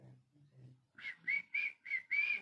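A person whistles five short, bright notes in a row after some soft, low murmuring sounds. The whistles are close and clear.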